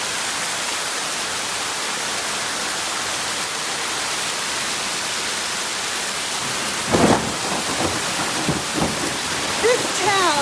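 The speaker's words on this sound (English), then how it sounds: "It's raining super hard." Torrential rain pours down in an Italian village, a dense, loud, continuous hiss of water on streets and roofs, with a few sharper splashes and knocks toward the end.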